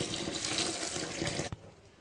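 Water draining off freshly washed rose petals, a steady close splashing rush like a running tap that cuts off abruptly near the end and leaves a quieter trickle.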